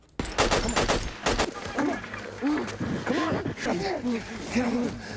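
Bursts of gunfire ring out in an action film scene about American soldiers fighting militia, sharp shots early on, then rapid volleys mixed with shouting voices and movement.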